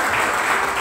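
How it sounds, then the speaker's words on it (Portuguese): A church congregation at a family worship service claps steadily, a dense continuous wash of applause from many hands filling the short moment without any speech. "Você pode aplaudir ao Senhor?"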